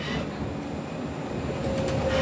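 A Kaohsiung light rail tram rolls along its track with a steady, close rumble. A faint tonal whine rises near the end, and no one speaks.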